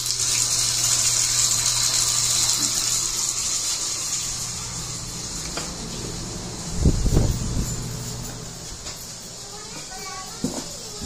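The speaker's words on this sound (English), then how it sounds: "I'm going to turn the bathtub on" A bathtub faucet in a house with a leak under the slab runs steadily, giving a continuous rushing hiss of water with a few louder splashes and clunks partway through.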